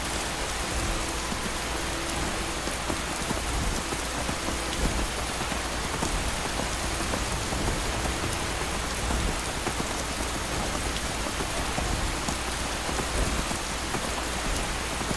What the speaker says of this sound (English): When it rains, it pours in Skyrim.